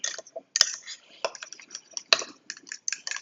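A fork whisks and stirs sauce ingredients in a bowl for brisket sliders, producing close, irregular clicks and scrapes with a couple of sharper taps against the bowl's side.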